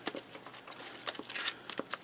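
A deck of Cardfight!! Vanguard trading cards being shuffled by hand, a quick run of crisp riffling flicks and soft slaps in irregular bursts, close and fairly quiet.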